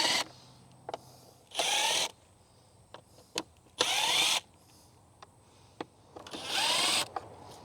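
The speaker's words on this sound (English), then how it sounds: "I'm going to be using a 1/4-inch drive impact." A 1/4-inch drive impact tool loosens the air filter housing screws on a 2012-2018 Ford Focus, giving four short, close whirring bursts with clicks and faint handling noises between them.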